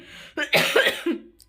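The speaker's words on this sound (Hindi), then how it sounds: "बीच बीच में मुझे खांसी हो ही जा रही है" A woman coughs in a short burst, a few rough, close bursts in quick succession with a throat-clearing quality, loud against a quiet room.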